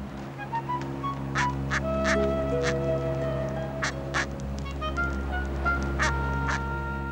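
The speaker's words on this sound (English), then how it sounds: "Penguin parents feed only their own, which they recognize by their voices." Gentoo penguin parents and chicks calling in an Antarctic colony, with repeated harsh, honking cries and short squawks rising over a steady low background drone, fairly close and loud.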